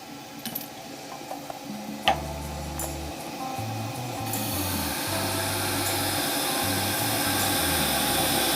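A carbide tool lightly touches up a spinning seven-colour epoxy resin shaving brush handle on a lathe, giving a thin scraping hiss over a steady motor hum that grows louder and brighter partway through.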